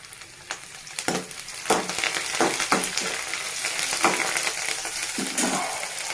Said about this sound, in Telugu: Onion fry అవ్వనివ్వాలండి. ఇప్పుడు మనం ఒక రెబ్బ కరివేపాకు యాడ్ చేసుకున్నాం.